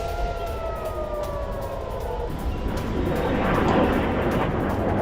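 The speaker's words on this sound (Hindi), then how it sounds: "एक तरफ तेल अवीव में रेड अलर्ट जारी किया गया है, सायरन बज रहे हैं यहां पर" Air raid sirens wail in Tel Aviv during a red alert for an Iranian missile attack, with long gliding tones over a dense outdoor rumble that swells louder toward the end.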